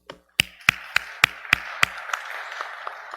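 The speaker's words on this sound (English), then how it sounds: "Please let us clap for our bishop." A few people clap for a bishop at a church anniversary gathering, with about eight sharp, evenly spaced claps that soften and thin out as the applause tapers off.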